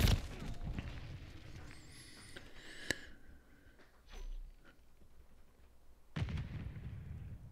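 A RAM-7 assault rifle fires in a video game, giving a few heavy, booming shots with quiet gaps between them and faint game effects underneath.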